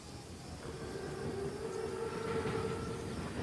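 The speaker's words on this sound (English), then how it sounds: "Train's right on time." Armored train in Call of Duty WWII approaching and rolling past, a low, steady rumble that slowly swells over a few seconds, with a faint tonal whine riding on top; fairly quiet and distant, no voices.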